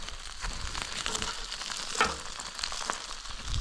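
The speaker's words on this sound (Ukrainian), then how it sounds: "Ох, як скварчать смачно." Salo and onion sizzling and crackling as they fry in a pan, a steady hiss with small pops and a faint crinkle, heard outdoors in the cold countryside.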